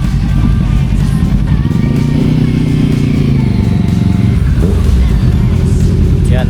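Several loud motorcycles, among them a Honda CB650R, roll in close by with deep engine rumble that rises and falls as they arrive and pass; the rumble carries on steadily throughout.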